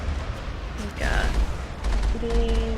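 Turret gunfire in the Mass Effect video game: a loud burst with a sweeping whoosh around the middle and a dense, rumbling barrage of shots throughout, with a voice talking over it.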